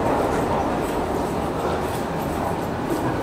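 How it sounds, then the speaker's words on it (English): A DSB Øresundståg InterRegional train sits at an underground platform at Malmö central station, giving off a loud, steady rumble and hum that echoes through the enclosed space without a break. "this is the train that we'll be catching to Copenhagen"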